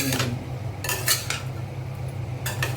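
Vegetables and spices fry in ghee with garam masala for a potato and soya chunk curry, a low steady sizzle broken by several sharp clinks and scrapes of a utensil against the pan, close by.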